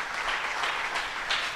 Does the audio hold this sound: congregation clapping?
yes